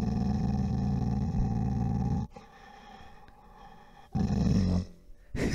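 Dogs growling and snarling loudly close by during an indoor podcast recording, a sustained throaty rumble that drops away, then a second burst of growling near the end.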